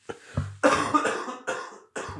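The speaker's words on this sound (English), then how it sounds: "Take your time, bro. Cough it out." A person coughs several times in quick succession, close and harsh, with a short throaty sound at the start.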